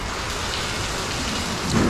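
Steady rain hisses down during truck loading in Amorebieta, a dense close wash that swells slightly at the end.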